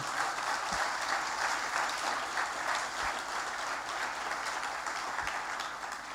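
A steady wash of applause from a conference audience at the Understanding Risk Caribbean Conference, celebrating Barbados' first woman Prime Minister; dense, even clapping that carries on throughout without any voice.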